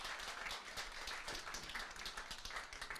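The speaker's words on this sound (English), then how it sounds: "Yeah, you can clap for that." An audience at a community speech claps in a steady, dense burst of applause that fills the whole stretch at moderate volume, with no voices on top.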